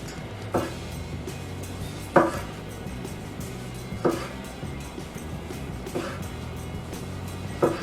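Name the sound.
knife slicing a tomato thin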